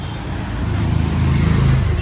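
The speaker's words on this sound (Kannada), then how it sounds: "ನೋಡಿ ಇಲ್ಲೆಲ್ಲ ವೆಹಿಕಲ್ಸ್ ಎಷ್ಟು ಸ್ಪೀಡಾಗಿ ಬರ್ತಾರೆ" Vehicles speed past close by on a busy Kerala road, a rising rush of engine and tyre noise that swells as one goes by, loud and near.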